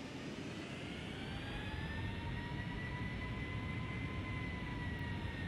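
Boeing 757 jet engines in a flight-simulator game spool up for takeoff, a steady roar with rising whining tones held continuously for several seconds, moderately faint and even.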